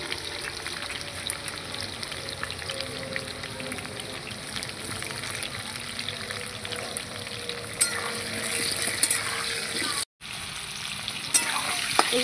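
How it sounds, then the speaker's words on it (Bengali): Potatoes fry in a pan with salt in a constant crackling sizzle, close and even, with a brief gap before the frying noise resumes. "আলুগুলো আমি লাল লাল করে ভেজে নেব"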